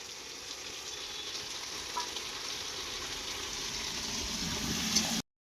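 Potatoes fry in hot oil in a kadhai while a rohu fish curry is prepared, giving a steady close sizzle and crackle with occasional stirring, then cutting off abruptly.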